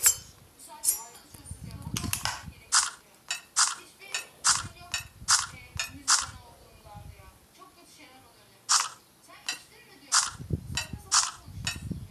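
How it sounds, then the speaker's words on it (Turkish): A knife chopping tomatoes in the Toca Boca Jr cooking game, heard as a series of crisp, bright clicking chops in short bursts, with soft game tones in between and no voices. "ilk önce tabii ki de domatesimizi doğramaya gidiyoruz"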